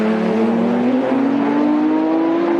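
A Nissan Silvia S15 and a Nissan Skyline GT-R race wheel to wheel at Tsukuba circuit; loud, steady engine roar holds close and continuous, and the pitch climbs slowly as the cars accelerate together.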